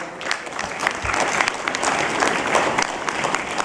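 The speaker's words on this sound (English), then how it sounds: "I request all of you to give him round of applause" A conference audience at an HR conclave claps for a speaker, a full, lively round of applause with close individual claps standing out over the dense crowd sound.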